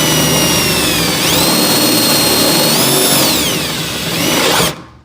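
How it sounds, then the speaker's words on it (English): A power drill runs during work on a 1968 Dodge Charger build, its loud motor whine holding steady, rising and falling in pitch twice, then cutting off abruptly at the end. "You just hold that drill."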